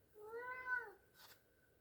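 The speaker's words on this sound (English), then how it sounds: "There's my cat again." A house cat gives a single clear, drawn-out meow at close range, followed by a brief rustle, with no talking over it.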